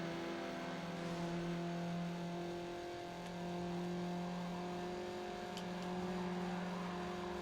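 A PS2-era Need for Speed race car engine drones at a steady, sustained pitch, holding mostly constant with a brief dip, moderately loud and alone.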